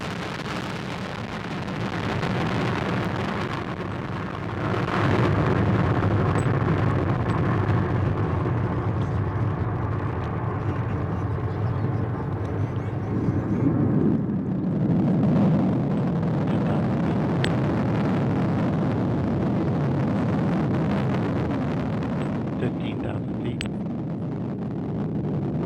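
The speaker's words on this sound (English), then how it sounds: "this is the LT Minotaur launch vehicle is carrying the AA-2 launch aboard system" A Minotaur launch vehicle carrying the Orion AA-2 ascent abort test lifts off as a sustained, deep rocket roar, rumbling and swelling at a distance with a wind-buffeted texture.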